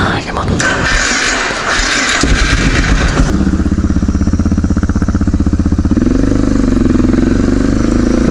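A supermoto motorcycle engine runs close and loud, rough and busy at first, then settling into a steady pulsing drone with a rising pitch toward the end.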